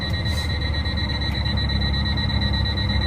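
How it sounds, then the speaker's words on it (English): A farm truck's low air pressure warning beeps steadily inside the cab, a loud continuous electronic tone over the idling engine's low rumble, with no talking. "I'm low on air. That's what that beeping is."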